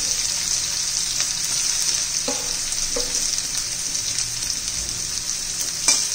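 Onion fries in hot oil with cumin seeds, mustard seeds, garlic and green chili, making a steady, close sizzle with a few sharp clicks as the pan is stirred.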